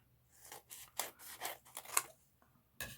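Scissors snip through paper in a series of short, close cuts while a window envelope is being made, with brief pauses between strokes and no talking.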